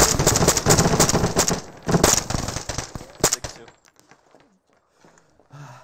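Gunfire in the military game ArmA3 during squad training, a burst of rapid shots mixed with shouting voices, then quieter scattered sounds as the firing stops.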